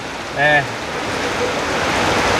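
Steady broadband hiss of rain falling on a roof, continuous throughout, with a short sung or hummed tone near the start rising above it.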